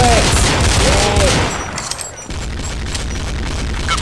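Fireworks in Counter-Strike crackle and boom loudly in dense bursts with whistling rising tones at first, then fade to a quieter scattered popping and rumble.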